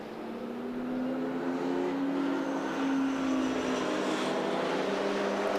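A Datsun 240Z race car at Silverstone passes by, its engine a steady rising then fading harmonic drone heard clearly at moderate distance with no talk over it.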